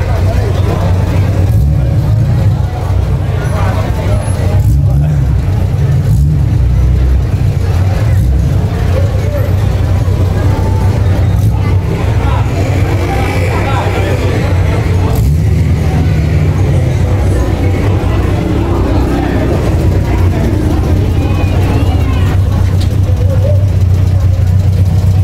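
Aircooled cars arrive at a festive Festa Junina car meet, their low engines rumbling and idling at close range, loud and continuous. People talk and call out over the engine noise throughout.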